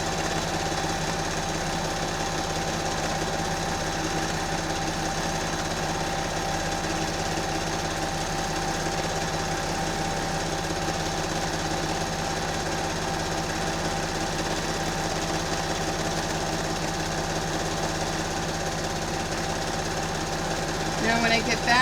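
A sewing machine stitches a quilt in one steady, continuous whir that holds an even drone with little change from start to finish.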